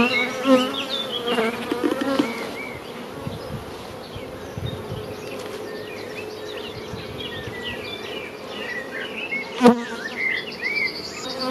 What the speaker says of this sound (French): les abeilles vont descendre de la hausse du haut